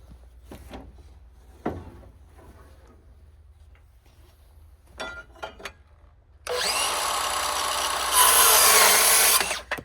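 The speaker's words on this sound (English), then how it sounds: "I can take my saw and just cut it" A power saw cuts through a piece of framing lumber during a tiny house build: quiet shuffling and scattered knocks, then a loud, close buzzing cut lasting several seconds.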